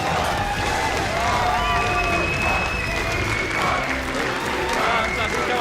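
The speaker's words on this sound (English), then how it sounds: "I'll let the crowd sing it for us." A packed esports arena crowd at the EU LCS Spring 2015 League of Legends semifinal playoffs roars and sings together in a dense, steady wall of voices and cheers, with no break throughout.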